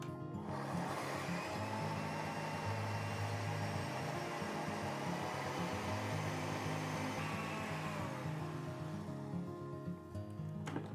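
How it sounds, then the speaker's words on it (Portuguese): A kitchen blender running at medium speed while blending ingredients for a gluten-free recipe gives a steady, close whirring motor drone that holds for about ten seconds before cutting off. "Vamos bater no liquidificador em velocidade média por no máximo 2 minutinhos."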